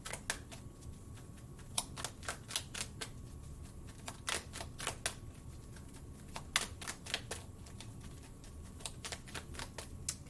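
A deck of angel cards being shuffled, a quick series of crisp riffling clicks and flutters in uneven bursts, fairly close and quiet, with no talking.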